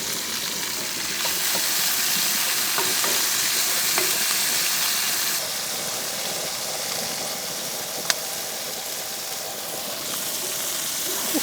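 Potatoes and onions for a camp breakfast hash fry in a camp pan with a steady, close broadband sizzle that holds for the whole stretch, with no voices.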